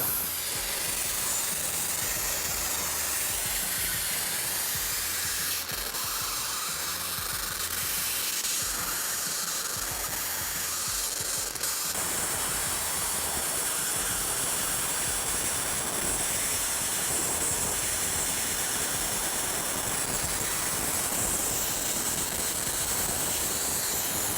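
Multiplaz 3500 plasma torch running in torch-only mode at minimum amperage, giving a steady, loud hiss with a rushing, steam-like roar that holds continuously throughout, with a slight shift partway.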